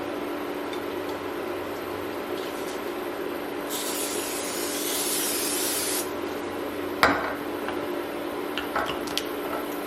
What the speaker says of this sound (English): we'll be using cooking spray the rest of the way.